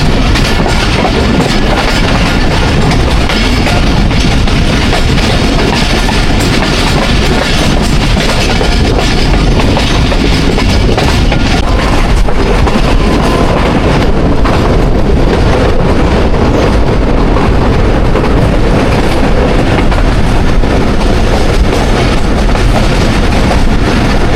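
Thall Express train passing through Masan railway station without stopping, a loud, steady rumble with rhythmic clatter of wheels on rails, heard close from aboard or beside the train.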